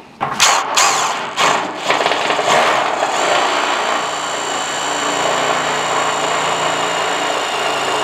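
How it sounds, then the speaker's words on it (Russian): Screwdriver or drill driving a self-tapping screw vertically through modular metal roof tile, a few short loud bursts at the start followed by a steady sustained whine with a high tone. "И в центр вертикально крепим саморез."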